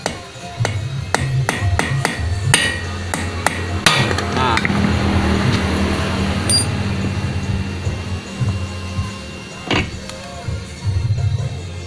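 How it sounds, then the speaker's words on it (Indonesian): Sharp metallic hammer strikes on a screwdriver in an irregular series, several close together at first, then a grinding, rattling stretch and a few later knocks, during ignition points repair on a Vespa PX. "ini tekan pakai obeng, terus bagian tengahnya dipukul, posisikan pas tengah-tengah, dan pukul secara lurus dan keras."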